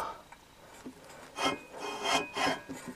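Scraping rub from a 1990s 5 hp Briggs and Stratton engine as its stiff crank is turned by hand, rusty parts grinding in several slow, rasping strokes, close and moderately loud.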